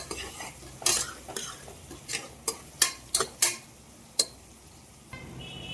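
Sliced onion frying in a pan for khichdi, stirred with a metal spoon that gives sharp clinks and scrapes against the pan over a low, steady sizzle, with no talking.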